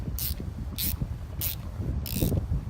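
A machine screw is tightened down into a wooden jig with a ratcheting tool, giving four evenly spaced bursts of crisp clicking close by over a steady low background rumble.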